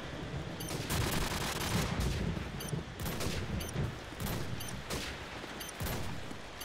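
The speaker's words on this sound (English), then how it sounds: "I hear an epic sniper battle going on." Sniper gunfire battle in Call of Duty 4: Modern Warfare: repeated sharp shots crack at irregular intervals over a dense rumbling backdrop of distant fire, with no speech.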